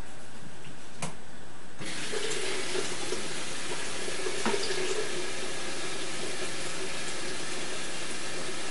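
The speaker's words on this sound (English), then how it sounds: "Now I'm going to fill this up with water." Tap water running into an enamelware pot, a steady rushing stream that starts after a couple of clicks and continues at an even, close level, with no talk.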